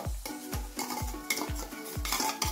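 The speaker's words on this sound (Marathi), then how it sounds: "ते वाटण आपल्याला परतायला घालायचंय" Spiced ground masala paste being sautéed with eggplant in a pan for a rustic kharwangi dish: a spoon scrapes and stirs in repeated strokes about every half second, with a soft sizzle beneath, close and fairly quiet.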